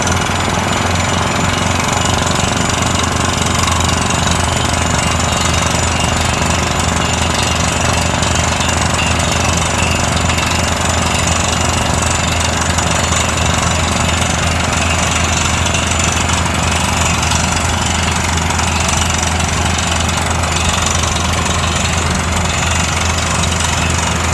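A loud, continuous mechanical drilling rig pounds and rumbles steadily throughout, with a heavy engine drone and no pauses.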